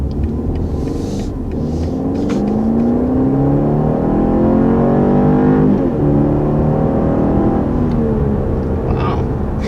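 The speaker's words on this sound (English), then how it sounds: "That's a really swift acceleration, especially when you consider this is the standard base engine." A 2021 BMW 530i with its turbocharged four-cylinder base engine accelerating hard, loud and close, with rising engine tones that climb through the gears and a steady drone throughout.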